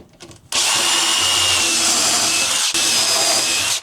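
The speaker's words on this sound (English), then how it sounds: "We're using the long drill bit." A power drill with a long bit bores into a brittle composite deck board, a loud, close, steady whine starting abruptly after a brief handling noise, with a momentary dip partway through.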